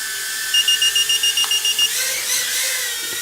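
A run of about ten short, evenly spaced high-pitched beeps from a SANROCK GD65A mini drone entering flip mode, loud and close, followed by a faint whirring hum.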